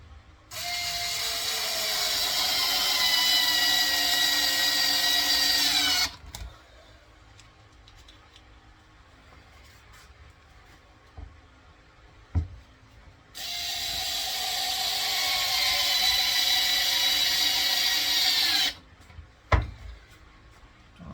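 A power tool driving screws into a bandsaw table whirs loud and steady for about six seconds, then after a quiet gap with a few clicks and knocks it runs again for a similar stretch, ending in scattered clunks.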